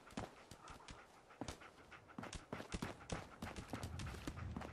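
The dog companion Dogmeat in the video game Fallout 4 pants in quick, rhythmic breaths close by, with soft footsteps mixed in.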